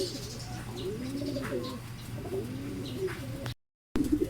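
Young racing pigeons coo at a loft landing board, repeated soft rolling coos overlapping from several birds close by, with a faint steady hum beneath and a brief dropout near the end.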